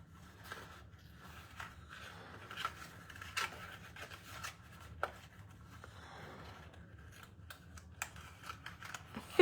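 Paper for a handmade mini photo album brag book is folded by hand in soft, intermittent crinkles, creases and scrapes, quiet and close, with no talking.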